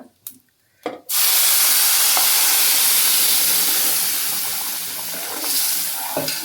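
A sudden loud sizzle bursts in after a couple of soft clicks, then a steady hot-oil crackle and hiss continues, close by and gradually easing.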